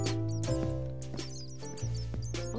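Bats spawning in Minecraft on Xbox 360 give off quick, high squeaks that repeat irregularly over steady, tonal game music, with no talking.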